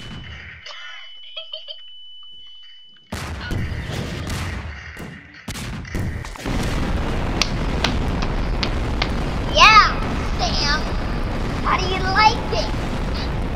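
A loud burst of explosion-like booms and crackling roar erupts in a video game, followed by sustained rumbling noise with whistling tones while a voice talks over it.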